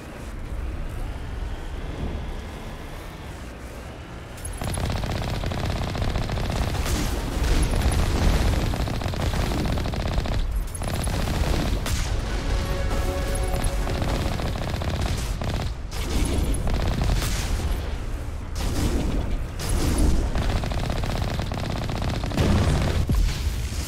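Gunfire rains down from above in the Mass Effect video game, sustained rattling bursts and booming explosions continuing loudly for over twenty seconds with only brief dips, mixed with game sound effects.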